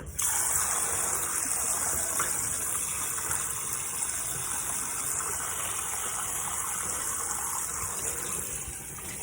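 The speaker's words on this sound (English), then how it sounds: "I'm gonna just rinse it off really good" A kitchen tap runs steadily over raw chicken as it is rinsed, a loud continuous gushing hiss of water close by that goes on without a break and has no talk over it.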